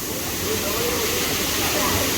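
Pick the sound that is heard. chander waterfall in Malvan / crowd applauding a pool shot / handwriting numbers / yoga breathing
chander waterfall in Malvan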